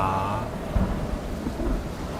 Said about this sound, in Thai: ท่ามกลางสายฝนที่ยังคงโปรยลงมาไม่ขาดสาย